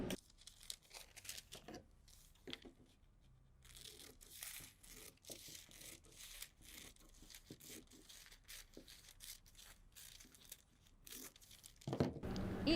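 Scissors cut through fabric along a drawn line of a pleated dress pattern, giving close, quiet crisp snips and rustling crinkles in an irregular run, with a louder burst near the end.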